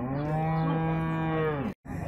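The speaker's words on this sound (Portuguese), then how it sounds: "Essa é a junta pertencente ao seu Giva." At a cattle fair in Cachoeirinha, Pernambuco, a single cow or ox lets out a long, deep, close moo lasting well over a second, then breaks off into background noise.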